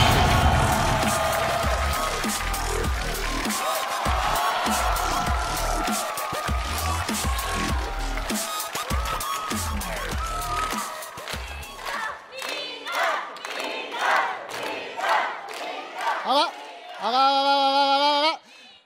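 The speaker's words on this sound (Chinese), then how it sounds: "掌声有请李诞。" Studio audience at a Chinese stand-up comedy show cheers and shouts loudly and continuously, with whoops and applause filling the room before dying into scattered calls and a closing burst.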